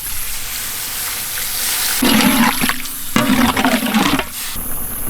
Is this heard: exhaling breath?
no